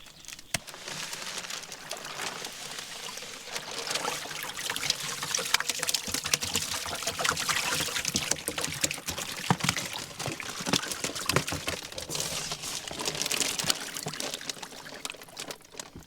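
Pond water poured into a cooler holding fish makes a continuous splashing, trickling pour, close and steady for the whole stretch with no talking.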